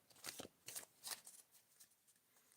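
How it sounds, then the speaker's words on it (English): Tarot cards being shuffled by hand in a quiet room, three or four quick riffling bursts followed by softer rustling and faint card flicks, close and fairly quiet with no talking. "so I am going to shuffle"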